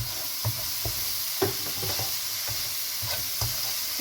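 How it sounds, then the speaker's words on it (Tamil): Manathakkali berries sauté in oil for kuzhambu, with a steady close sizzle and regular scraping of a spoon stirring the pan, and no talking. "கொஞ்சம் எண்ணெய் விட்டு இன்னும் கொஞ்சம் வதக்குவோம்"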